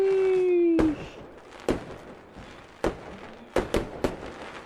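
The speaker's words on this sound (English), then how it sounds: "The fireworks." Fireworks bursting in an Unreal Engine 5 game: a rising whistle ends in a sharp bang, followed by four more distinct cracking pops spaced across the moment, some close together, loud against a quiet background.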